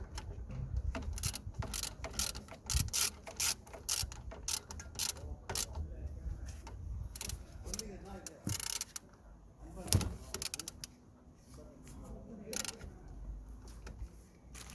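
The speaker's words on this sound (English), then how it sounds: "Just gonna secure the bottom one now. So just gonna lock the inner pin with 18mm spanner." An 18mm spanner tightens the lower inner brake caliper pin on a Toyota Yaris during a front disc and pad change, giving repeated close metallic ratcheting clicks and clunks in short bursts, with some handling knocks between them.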